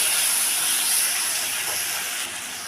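Ground onion paste hits hot oil in a pan, giving a steady, loud, broadband sizzle and hiss that holds evenly throughout and fades slightly near the end, with no talking.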